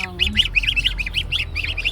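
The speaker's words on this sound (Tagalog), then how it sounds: "Andito yung aking mga cute na cute na gansa" A small flock of domestic geese honks and squawks in a quick, steady series of calls, close and fairly loud over faint background rumble.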